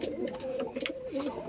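Domestic pigeons kept in a breeding loft coo in soft, rolling, repeated phrases close by, with a steady low murmur and no talking.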